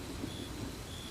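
Steady rain falling through a stormy night, with a continuous broadband hiss and low rumbling thunder underneath, no voices.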